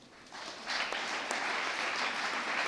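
An audience at an event in Nigeria claps steadily for the governors, many hands together, the applause swelling after a moment and holding at a full, dense level.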